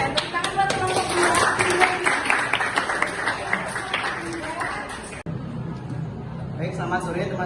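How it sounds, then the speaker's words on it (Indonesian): Applause for a student group in a high school class in Denpasar: brisk, close hand clapping from classmates with chatter underneath, breaking off abruptly near the end as talk continues. "tepuk tangan buat kelompok"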